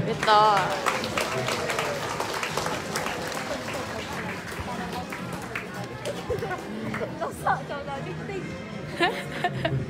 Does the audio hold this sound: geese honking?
no